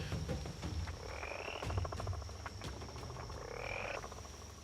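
Frogs and toads croak together in a night chorus by a riverbank on the Serengeti–Maasai Mara route, with steady pulsing calls and rising trills repeating over a constant background hum.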